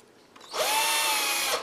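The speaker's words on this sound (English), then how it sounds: "So let me see if I can go ahead and drill my hole." A power drill boring a hole through a bear claw for a necklace, a single steady high-pitched whine that starts abruptly and runs for about a second close to the microphone, with no talk over it.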